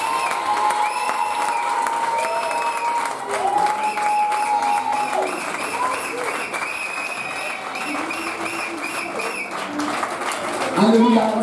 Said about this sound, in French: Est-ce qu'on peut acclamer le Seigneur Jésus?